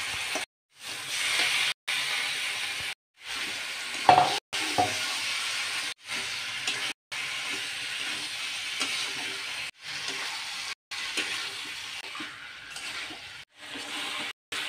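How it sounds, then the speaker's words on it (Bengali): Chicken pieces sautéing in spiced oil in a pan for chicken kosha, a steady close sizzle and hiss with faint stirring scrapes, broken by several brief silent cuts. "এখন আমি দিয়ে দেব মাংস দিয়েও আমি কষিয়ে নেব।"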